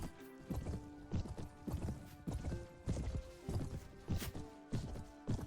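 Horses in the Mount and Blade: Prophecy of Pendor video game clatter along in rhythmic clip-clop hoofbeats, with a few whinnies mixed in, fairly quiet and unbroken by talk.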